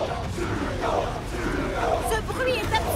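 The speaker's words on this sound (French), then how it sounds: "Le Shake veut que la foule de supporters fasse encore plus de bruit." A cartoon football stadium crowd of supporters roars and cheers loudly, a continuous dense wall of shouting voices that swells without pause over the short stretch.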